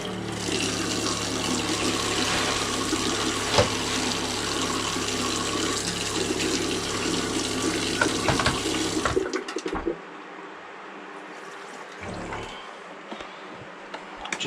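Hot water gushes steadily from a tap for several seconds, then shuts off, leaving a quieter room with faint trickling.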